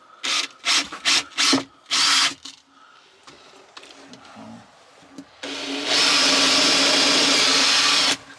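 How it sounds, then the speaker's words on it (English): Drill boring a hole in wood, several short loud bursts of whirring in quick succession, then quieter handling noises, then a sustained louder drilling run near the mic. "So we're going to do a drill hole"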